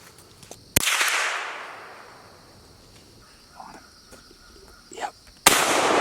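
Two sharp, loud rifle shots while squirrel hunting among big walnut trees, one early and one near the end, each a crisp crack with a long fading echo through the woods, faint rustling between.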